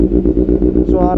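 A motorcycle engine warming up idles close by with a loud, chugging pulse, then revs up near the end of the short clip.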